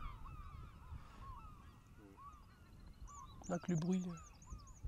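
Geese and other birds honk and call across the tidal bay of Mont Saint-Michel, faint distant cries building to a louder honking burst near the end, with a brief voice speaking over the open outdoor quiet.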